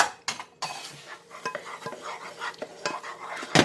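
A utensil stirs cocoa into hot melted butter in a pan, scraping and clinking against the metal in quick irregular strokes, with a faint sizzle underneath.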